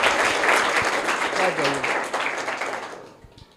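Students in a private school classroom clap for a classmate's correct quiz answer, a loud burst of close applause that gradually thins and fades out, with a voice briefly heard beneath it.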